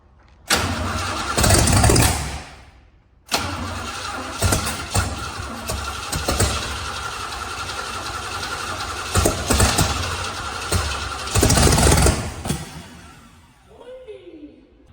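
A rat rod car engine cranks, catches and runs in loud bursts, revving unevenly with short pauses before settling and cutting out near the end, its timing far off.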